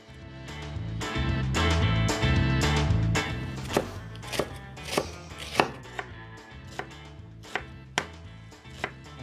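A knife chops a stick of celery on a cutting board, giving a regular series of about eight crisp, close thuds after a few seconds of low background hum, with no talking.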